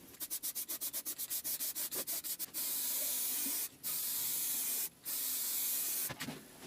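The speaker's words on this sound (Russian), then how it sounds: "я все покрашу быстро сохнущей краской из аэрозольного баллончика" Rapid short bursts of quick-drying aerosol spray paint on a wooden tool cabinet for a lathe, then long continuous hissing sprays broken by brief pauses, close and loud.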